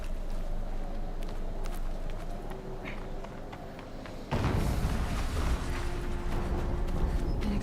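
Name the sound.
explosion in the video game Horizon Zero Dawn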